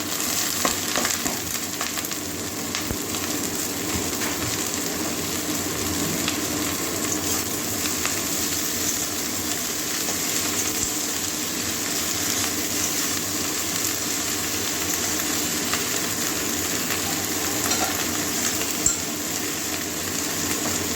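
Cauliflower, carrot and potato hit a pan already holding fried onion, green chili and black cumin, giving a steady, close, even sizzle that runs unbroken throughout with no talking.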